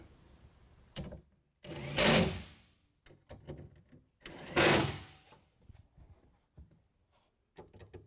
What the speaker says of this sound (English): go ahead and tighten it down with a T30